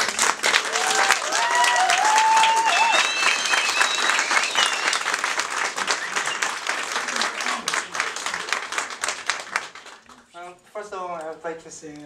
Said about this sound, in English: The biggest round of applause possible, please.